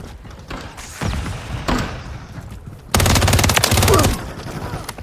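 Close gunfire bursts in Modern Warfare III: a few separate heavy shots, then a loud sustained automatic volley of about a second, with scattered thuds around it.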